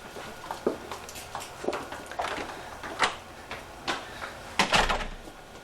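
A residential front door opens and closes with a series of separate knocks, clunks and latch rattles spread across several seconds, fairly close and moderately loud, with no talk.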